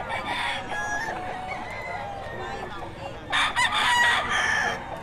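Lemon sweater gamefowl rooster crowing at a busy poultry market, one loud crow near the end over background chatter and clucking from other birds.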